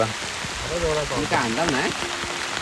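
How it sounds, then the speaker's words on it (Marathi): Heavy monsoon rain at night by a river in Konkan hisses steadily in the background while a person speaks over it. "मोबाईलला मुसळधार पाऊस आला आहे"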